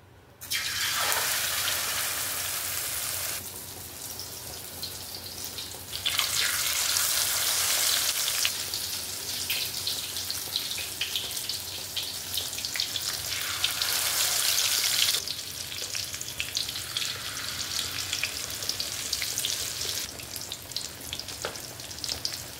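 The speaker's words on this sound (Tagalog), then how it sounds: "Prito na natin. Lagay tayo mantika." Eggplant omelette sizzles and crackles in hot oil, the frying swelling louder in several long bursts over steady background hiss.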